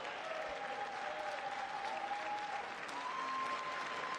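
An audience at the State of the Union applauds in a steady, dense wash of clapping, heard faint and distant throughout, with a thin tone running over it.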